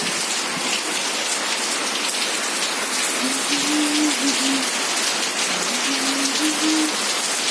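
A strong, steady downpour of rain roars continuously, with a faint low hum drifting in briefly twice.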